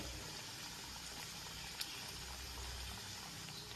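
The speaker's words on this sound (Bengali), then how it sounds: "এবার এটা ভাজা হবে" Soft, steady bubbling and crackle of coconut fritters frying in hot oil, fairly quiet and continuous with one brief sharp tick midway.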